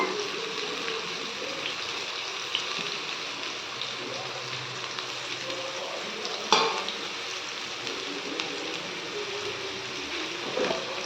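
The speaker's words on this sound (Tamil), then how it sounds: "ஆயில் ஹீட் ஆகிடுச்சு. இந்த டைமில் ஆனியன் சேர்த்துக்கலாம்." Onions sizzling in hot oil in a pan while making homemade obbattu, a steady close crackling fry with a few sharper pops and stirring knocks throughout.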